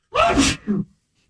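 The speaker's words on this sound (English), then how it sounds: "You think somebody just got an erection listening to me sneeze?" A single close, loud human sneeze, a sharp burst followed by a shorter trailing exhale, then silence.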